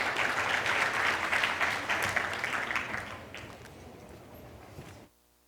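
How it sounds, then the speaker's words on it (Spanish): Audience applause for a panel at an insurance-sector convention, a dense clatter of clapping that is loud at first, then thins and fades over several seconds before stopping abruptly. "Un aplauso para ellos, por favor."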